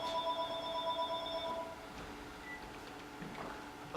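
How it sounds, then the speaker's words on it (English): A telephone rings in two electronic trills, fairly faint and indoors, and then falls quiet into a low room hiss. "I'll answer the phone."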